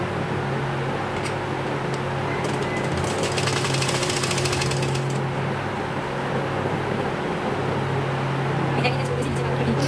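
A sewing machine runs steadily while stitching the leg of palazzo pants, its motor hum continuous and close, with brief bursts of faster clatter partway through.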